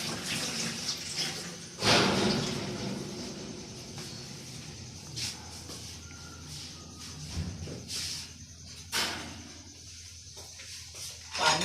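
Water splashing and pouring in a home kitchen while preparing rice for shahi mutanjan, with irregular surges and gushes, a few louder splashes standing out over a steady running-water wash.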